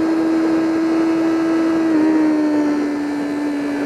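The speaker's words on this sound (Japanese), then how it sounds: "これ1万回転の音です。" A BMW S1000R inline-four motorcycle engine holds a steady 10,000 rpm in first gear during a highway test ride. It gives a loud, continuous, high-pitched drone with a slight waver near the middle and no voices.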